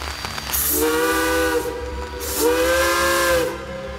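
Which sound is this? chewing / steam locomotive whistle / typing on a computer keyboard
steam locomotive whistle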